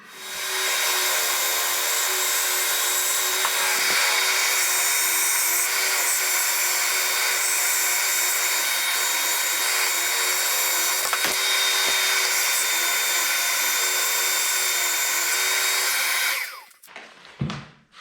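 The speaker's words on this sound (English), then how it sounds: "belt sander." A belt sander shapes a wooden saguaro cactus, its loud steady whine running unbroken with faint shifts as the wood presses against the belt, then winding down at the end.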